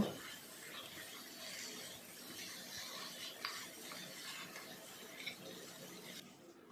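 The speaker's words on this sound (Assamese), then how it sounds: "এতিয়া ভালদৰে মিহলাই ভাজিব লাগিব" Free-range chicken with ground coriander and cumin is stirred and fried in a pan, making a faint, continuous scraping and rubbing with small clicks and no talking.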